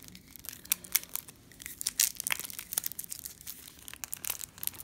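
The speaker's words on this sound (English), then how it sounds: "let me just find the tab here to rip this open" Tearing open the packaging of a Yu-Gi-Oh Legendary Decks deck, with close, sharp rips and crinkling plastic crackles in uneven bursts, some louder snaps among them, and no talking.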